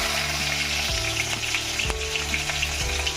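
Chopped onion and bay leaves hit hot oil in a home kitchen pan, a loud continuous sizzle with a few brief stirring scrapes and no one speaking.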